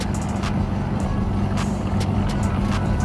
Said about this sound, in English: That truck sounds good right there,